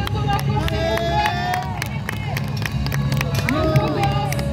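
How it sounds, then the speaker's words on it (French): A crowd at a medieval knights' tournament claps and cheers for a knight, with scattered hand claps and rising voices amid outdoor hubbub. Tonal whistles or calls sound throughout. "On encourage et on applaudit Maël de Tonnancourt s'il vous plaît"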